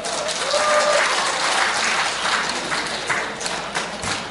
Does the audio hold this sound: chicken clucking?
no